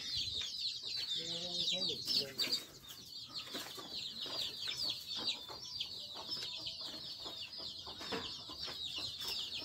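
Roosters and hens cluck intermittently on a small poultry farm amid a constant high chorus of insects or birds, with scattered scratching and knocks nearby.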